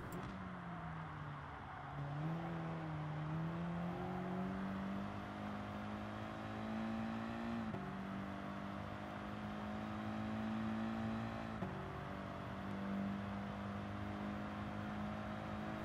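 Race car engine in Gran Turismo Sport on the Dragon Trail Seaside circuit, a faint steady hum that rises and dips through gear changes while accelerating out of a turn, with no talking.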